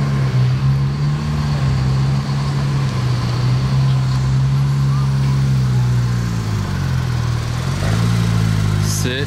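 A Porsche GT3 RS sports car idles nearby, a loud steady engine drone that dips briefly near the end, with a crowd murmuring around it.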